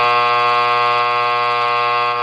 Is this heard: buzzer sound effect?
yes